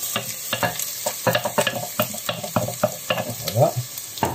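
Pork cheek for a daube sizzles and roasts loudly in a pan, with frequent scraping stirs and clattering utensil knocks over a continuous frying hiss.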